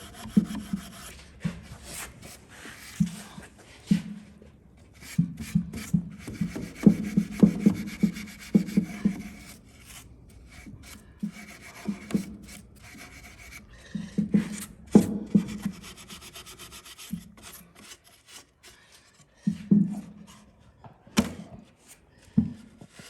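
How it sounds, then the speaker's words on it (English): Repeated rasping scrapes of a scraper stripping finish from wooden furniture in uneven strokes, close up, with short pauses between bursts and no talking. "I can hear it scraping against the wood"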